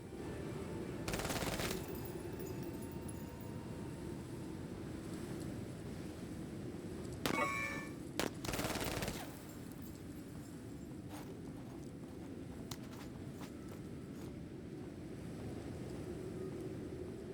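Bursts of support-fire machine gun shooting in a war video game, several long rattling volleys and a few shorter bursts over a steady background rumble, with no talking.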